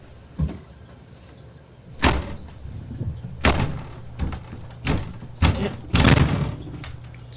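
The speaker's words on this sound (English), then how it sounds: "Can you close the door?" A door indoors is pushed shut with a series of sharp thuds and bangs, about six impacts spread irregularly over several seconds against a quiet room.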